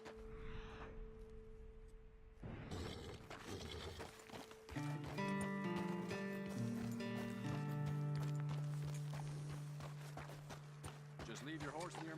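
Horses in the Red Dead Redemption 2 video game, with hoof clip-clops and movement sounds heard under spoken game dialogue and a musical score.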